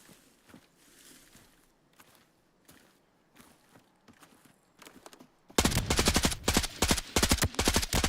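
Full-auto gunfire in the shooter game Arena Breakout, loud, close and sustained in a rapid rhythmic burst, following a quieter stretch of footsteps and scattered movement sounds.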